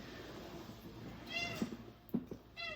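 A pet cat meows a few short times indoors, soft and fairly close, with brief bumps and rustles between the calls.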